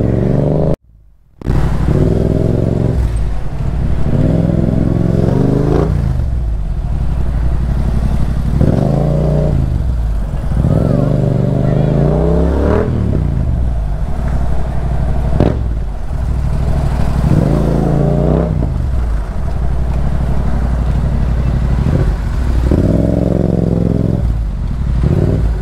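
A small motorcycle engine revs again and again in loud, close bursts that rise and fall over a steady idle, with some rattling, and no voices.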